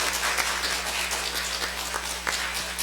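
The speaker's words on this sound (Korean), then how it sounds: "우리 환영하는 박수와 인사하도록 하겠습니다." Church congregation at a Sunday morning service applauding to welcome a new education pastor, a soft, steady patter of many hands clapping at moderate distance throughout.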